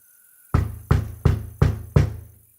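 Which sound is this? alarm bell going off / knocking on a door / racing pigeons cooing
knocking on a door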